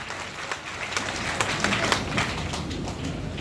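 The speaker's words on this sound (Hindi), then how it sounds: "जोरदार तालियां" Loud, sustained applause from a crowd at a business meeting, dense clapping steady throughout with no talk over it.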